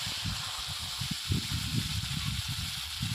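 Onions hit hot oil with garlic and ginger paste for a green-banana kofta curry, giving a steady close hiss of frying with crackly bursts throughout.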